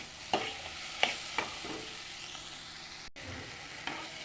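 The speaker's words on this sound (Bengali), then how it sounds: "দেখো মশলার সাথে সবগুলো একসাথে ভালোভাবে মিশিয়ে নিয়েছি" Banana flower curry with spices being stirred in a pan, a soft sizzle beneath several distinct scraping knocks of a spoon against the pan, spaced irregularly.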